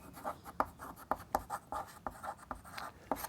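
A pen or chalk scratches out a geometry proof on triangles during a class-10 maths lesson, in a string of short, quick strokes with brief pauses between them, close and fairly quiet.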